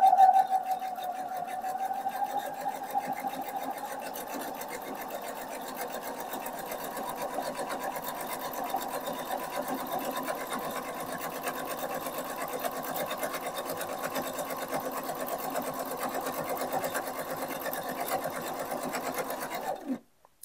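A sewing machine stitches a fabric bookmark in one long, even, rapid whirring run up close, stopping abruptly near the end.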